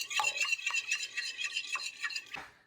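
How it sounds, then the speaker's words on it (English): A single egg whisked in a bowl for potato puffs, with quick clinking strokes of utensil against dish repeating in a brisk rhythm, close and fairly loud, no talking. "Okay, we got 1 egg. I'm just going to mix it up."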